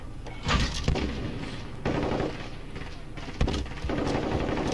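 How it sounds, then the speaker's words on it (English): Muffled, distant video game explosions and bursts of gunfire come in irregular waves, layered and rumbling without any speech. "There's that many explosions going off around me. And gunfire."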